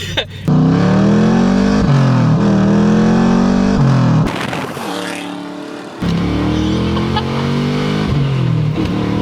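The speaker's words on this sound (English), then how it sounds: "It's a 6-liter LS with an LQ" Supercharged 6-liter LS V8 swapped into a Lincoln Town Car revs hard and close, holding a loud steady drone with rising and falling pitch sweeps and a brief drop around the middle before climbing again.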